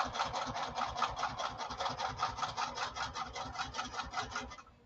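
A sewing machine runs steadily, its rapid needle stitching a straight line along a 1/4-inch seam guide, a continuous even rattle close by that slows and stops at the end.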